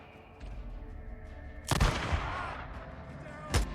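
Gunfire in the video game Days Gone: a sharp loud shot crack with a rolling echo, followed a couple of seconds later by a second shot, over low ambient game sound.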